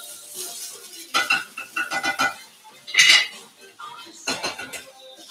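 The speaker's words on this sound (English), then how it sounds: "I'm going to mix the rice up a little bit here." Rice being stirred in a pan with a utensil, giving a run of clattering scrapes and clinks in bursts, close and fairly loud.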